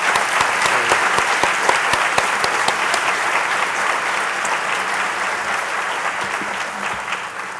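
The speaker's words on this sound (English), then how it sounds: "Let's give them one more big round of applause" A large crowd gives a big round of applause for teachers of the year at a district ceremony, a thick, loud, continuous wash of clapping with some distinct sharp claps early, tapering slightly at the end.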